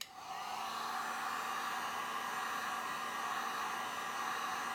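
Heat gun blowing steadily over an ocean-style resin pour on a surfboard, a loud continuous rushing hiss with a faint hum, close and alone with no talk.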